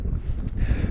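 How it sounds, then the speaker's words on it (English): Strong, freezing mountain wind in the Lake District rushes and buffets the microphone in a short, loud, rumbling gust. "it's pretty windy"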